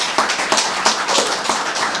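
Dense, steady applause from an audience at a Seattle-area housing progress update, with scattered sharper claps standing out across two seconds of continuous clapping.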